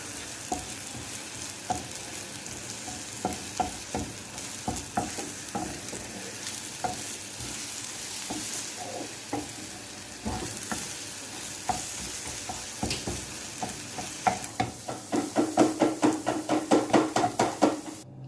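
An already fried egg is broken up and stirred in a hot pan, with steady sizzling and scraping throughout and a burst of quicker, louder rhythmic stirring strikes near the end.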